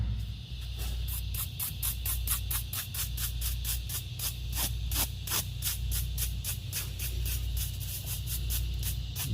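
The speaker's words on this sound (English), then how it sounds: "The brush actually does a decent job digging out the loose dirt and gravel trapped in there." Brush scrubbing loose dirt and gravel out of a crack in concrete: steady rapid scratchy strokes in a quick regular rhythm, close and continuous over a low background hum, with no talking.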